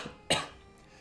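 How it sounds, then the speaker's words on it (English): A single quick cough, faint and somewhat distant, in a quiet room. "why am I coughing so much?"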